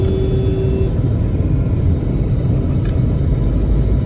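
Heavy road traffic rumbles at Bihari Mor, a dense, continuous low roar of passing vehicles close by, with a brief horn tone near the start and no talk.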